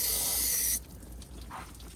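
A trigger spray bottle wets a plastic car headlight before wet sanding, a loud hiss of mist lasting nearly a second, then quiet handling noises.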